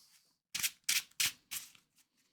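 A 40-card Marvel Champions deck is shuffled by hand in four crisp, close bursts of riffling cards, separated by short quiet gaps, with no talk.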